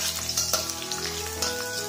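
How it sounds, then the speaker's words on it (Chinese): Chopped ginger and garlic sizzle in hot oil in a wok, a steady close crackle with brief louder spatters across the whole stretch. "油热后倒入姜蒜粒爆香。"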